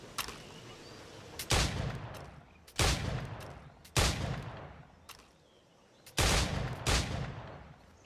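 Single gunshots at a timed target-shooting challenge in Assassin's Creed IV, with five sharp, loud reports at irregular intervals over a steady low background and no talking.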